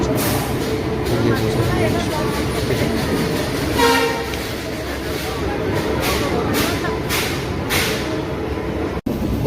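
Sealdah–Puri Duronto Express (22201) rolls along the rails with a steady rumbling rhythm and repeated clacks from the wheels. A few brief horn-like blasts sound, and the noise stays loud and close throughout.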